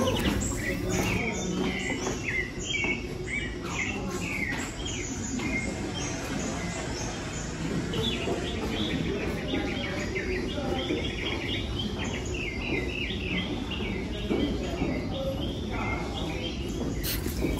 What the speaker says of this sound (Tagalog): Ang daming ibon, guys. Iingay nila.